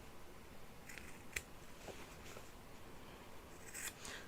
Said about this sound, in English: clip the corners